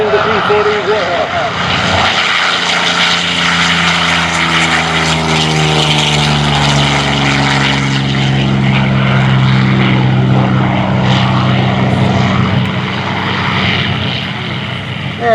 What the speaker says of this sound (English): it takes a little while for that left main gear to retract on the Curtiss P-40